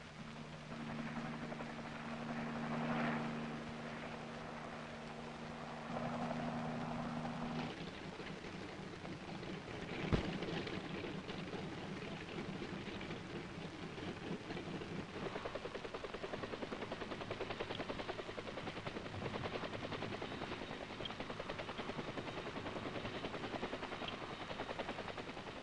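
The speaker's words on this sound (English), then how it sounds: "Then the troop carriers take off, well in advance of the H-21 group following." H-21 military troop-carrier helicopters taking off make a steady, dense rotor and engine roar that fills the whole stretch, with a low droning hum early on and a brief sharp bang near the middle.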